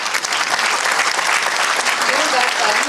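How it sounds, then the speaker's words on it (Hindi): A large audience applauds a doctor receiving a lifetime achievement award at a ceremony, a dense, continuous roar of clapping that stays loud and even throughout, with a faint murmur of crowd voices underneath. "जोरदार तालियों से डॉक्टर साहब का स्वागत कीजिए।"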